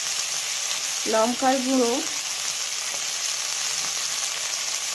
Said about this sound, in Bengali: তেলের মধ্যে গুগলিটা দিয়ে দিয়েছি, আমি এখন ভালো করে ভেজে নেব